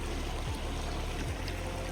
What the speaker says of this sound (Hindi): अभी मैं अपने हाथ धोऊंगी।